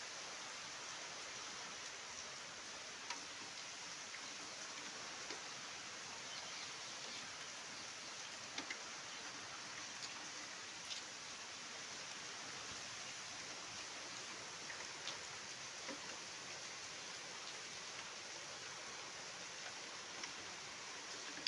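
Steady rain falls in a continuous soft hiss with faint scattered drips, and wind has eased, with no voices present.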